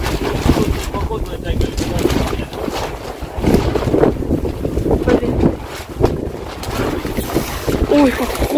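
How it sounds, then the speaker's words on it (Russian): Strong, icy gusty wind after a hurricane buffets the microphone in rough bursts, with people talking faintly underneath near the end. "Ветер прям ледяной."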